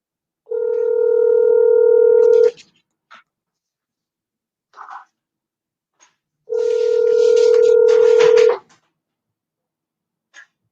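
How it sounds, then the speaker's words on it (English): A telephone line tone sounds twice, each lasting about two seconds and separated by a few seconds of silence. Brief faint tone blips, like keypad dialing, fall in the gap between them. "dialing."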